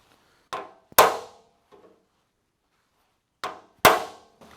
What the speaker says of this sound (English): So all I need with this is a big hammer.